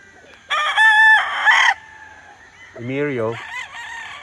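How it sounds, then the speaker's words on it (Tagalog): A Sweater gamefowl rooster on the Lunao farm in Bacolod gives a loud, close crow, followed by someone speaking briefly and then a softer cluck. "Very good looking chicken."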